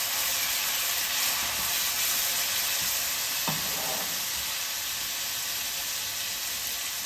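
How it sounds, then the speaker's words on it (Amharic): Water splashed into a hot pan of frying berbere spice, giving a loud continuous hiss and sizzle that stays close and steady with a brief burst of steam midway. "ትንሽ ውሃ ጠብ እናደርግበታለን።"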